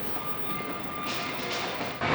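Commuter train running through Montreal at the start of evening rush hour, a steady close rumble of rolling wagons with a sharper burst of louder rail noise near the end; no voices.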